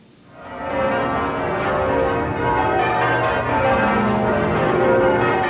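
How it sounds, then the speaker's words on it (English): Church bells peal across an English city in celebration of a freed British hostage, a dense, continuous wash of overlapping rings that swells in within the first second and stays loud and steady with no voices. "In cities across England, bells pealed to celebrate the freedom of the last British hostage."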